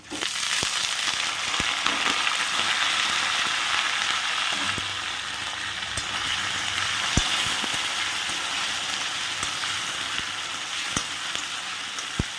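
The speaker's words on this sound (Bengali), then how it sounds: "জাস্ট হালকা হালকা ভেজে নেব। দিয়ে দেবো হচ্ছে পনির।" Paneer fries lightly in a pan after cashews and raisins, giving a loud, steady, close sizzle that runs without a break and has faint stirring scrapes.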